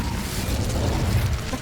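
Incendio fire spell cast in Hogwarts Legacy: a short, dense, rumbling whoosh of flame, loud and close, lasting under two seconds.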